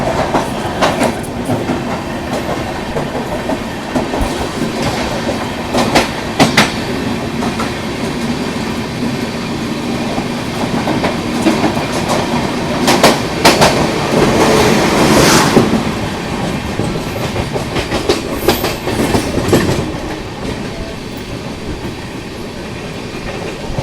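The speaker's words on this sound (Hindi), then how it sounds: "हावड़ा से चलकर रक्सौल तक जाने वाली मिथिला एक्सप्रेस को यहाँ पर अभी सियालदह राजधानी एक्सप्रेस ओवरटेक कर रही" A Sealdah Rajdhani Express overtakes the Mithila Express from Howrah to Raxaul, heard as continuous loud rail rumble and rhythmic clickety-clack of wheels over joints, with a brief louder surge midway.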